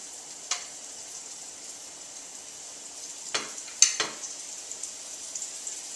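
Floured steak frying in olive oil gives a steady, soft sizzle throughout, broken by a few brief louder crackles and pops near the middle, with no voices.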